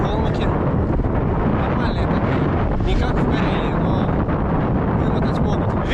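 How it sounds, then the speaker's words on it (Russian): Strong wind on a cycling tour from Voronezh to Konakovo roars and buffets the microphone throughout, a constant heavy rumble with gusty bursts and no pauses. "Ветер просто достал."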